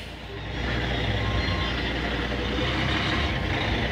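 Early 1960s Dodge pickup truck engine rumbling steadily and close by, a constant low drone with no talk.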